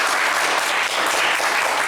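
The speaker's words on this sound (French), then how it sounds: "on va applaudir très fort Dosso et Christian qui n'ont pas démérité" Studio audience on a French television quiz show applauding loudly, a dense, steady roar of clapping that fills the whole moment without a break.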